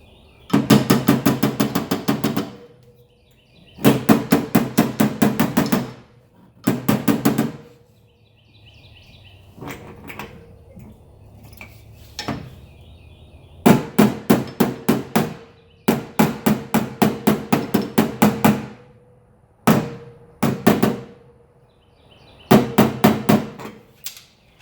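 Slide hammer pulling a dent from the body panel of a 2012 Hyundai Veracruz damaged by a mailbox strike; loud, close bursts of rapid metallic knocks in repeated rhythmic volleys, separated by short pauses.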